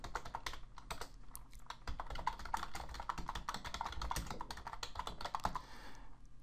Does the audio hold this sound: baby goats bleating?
no